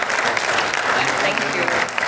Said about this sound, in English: So everybody, can we have a big round of applause for Jacqueline Foundation?